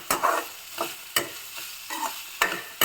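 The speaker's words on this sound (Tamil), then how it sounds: "ஆமாம், எண்ணெயில் வதக்கியிருக்கீங்க." Vegetables for a home lunch sautéing in oil in a pan, with regular scraping stir strokes about every half second over a soft sizzle, close by and without talk.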